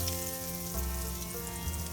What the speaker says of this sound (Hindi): एक बैच में मैं 3 पीसेस फ्राई कर रही हूँ, हमें ज़्यादा क्राउड नहीं करना है।